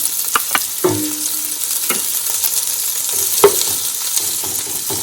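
A close, steady sizzle of onion frying in hot oil, broken by a few scrapes and taps of stirring, with no voices.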